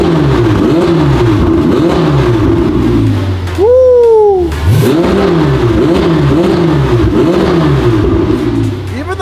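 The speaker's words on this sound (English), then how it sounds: "turboed, Ferrari does it right. They still make it sound like a Ferrari." Twin-turbo Ferrari 488 widebody engine revving loudly and close, rising and falling through repeated rev sweeps with a sharp high whine in the middle.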